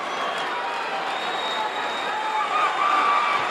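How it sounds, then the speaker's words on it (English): Crowd at a 1984 professional wrestling match yelling and screaming continuously, a dense roar filling the hall with a constant level throughout. "And this crowd is screaming their advice to"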